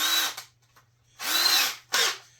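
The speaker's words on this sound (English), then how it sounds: "I'm going to have to drill out some of the back side of the drawer handle" A power drill with a Forstner bit whirs in two bursts into the back of a wooden drawer handle, with a short pause between them and a brief final spin.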